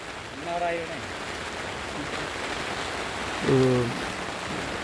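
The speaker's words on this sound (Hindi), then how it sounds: "हवा बहुत तेज़ है, बारिश रुक नहीं रही है, तेज़ हो गई है बारिश।" Heavy rain with strong wind beats on a tent on a mountainside at about 4000 metres, a steady dense hiss throughout, with a person speaking briefly over it.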